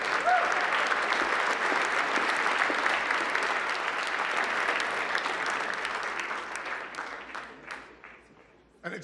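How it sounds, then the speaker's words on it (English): Loud, sustained clapping from the crowd at the White House Correspondents' Dinner, a thick even roar that gradually thins and fades over the last few seconds into scattered claps. "let's give him another huge round of applause"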